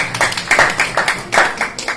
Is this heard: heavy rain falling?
no